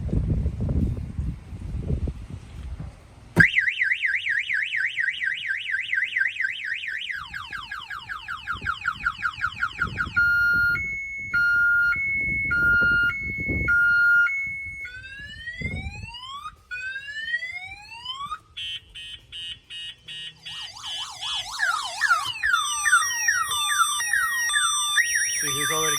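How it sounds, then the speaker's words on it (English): A Slingshot vehicle alarm system goes off loudly after a few seconds of low rumble, running through a long cycle of changing siren patterns: rapid chirps, warbling tones, rising whoops and pulsing beeps, one after another with no pauses. "I'm gonna go ahead and fire off the alarm"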